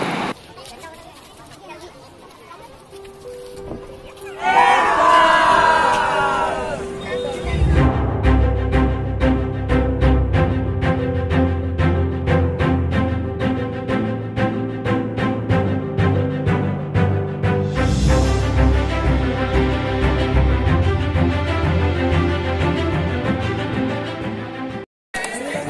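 Holiday crowd gathered at Futala Lake in Nagpur on Independence Day, a steady murmur of many voices with a close voice briefly heard early on, along with music and scattered background noise that continue throughout.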